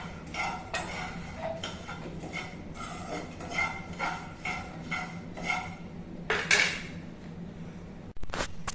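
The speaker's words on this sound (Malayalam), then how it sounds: "അപ്പൊ ഞാൻ വറുത്തോണ്ടിരിക്കുകയാണ്" A spoon stirs and scrapes homemade cerelac ingredients, including peanuts and flattened rice (aval), as they dry-roast in a pan. Rhythmic clinks and scrapes repeat steadily at close range, ending in a louder metallic clatter.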